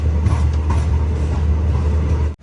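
A train runs on the Srinagar to Baramulla line in snowy Kashmir, giving a steady, loud low rumble with constant rolling rail noise throughout, then cutting off abruptly at the end.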